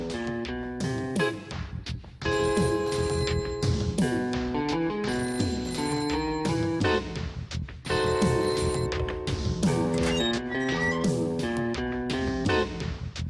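A telephone rings loudly and repeatedly in a police station, bursts of bright bell-like trills separated by short gaps, with no speech.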